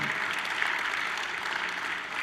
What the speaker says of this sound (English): Let's give him a round of applause before we watch the video.